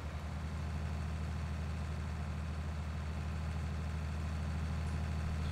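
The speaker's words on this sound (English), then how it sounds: "This little tractor is putting in work." Small tractor engine in a farming video game labouring under load, a steady low rumble with constant drone throughout, loud and unbroken with no talk.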